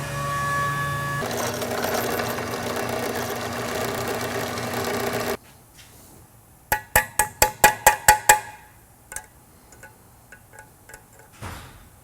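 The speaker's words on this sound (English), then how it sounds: "we're going to drill an 1/8 inch cotter pin hole in the shaft and cotter pin" An 1/8 inch cotter pin hole is drilled through a steel shaft on a 1963-1982 Corvette upper control arm: a steady motor whine runs for about five seconds, then stops, followed by a quick run of sharp metallic taps.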